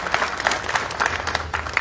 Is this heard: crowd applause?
yes